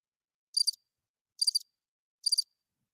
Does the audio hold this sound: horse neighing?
no